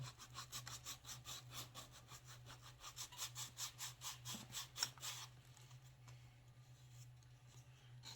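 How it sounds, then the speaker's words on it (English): A craft piece is sanded down by hand with quick, rhythmic back-and-forth rasping strokes, close and fairly soft, which thin out and fade in the last few seconds. "I'm going to turn it over. And I'm going to just kind of sand it down"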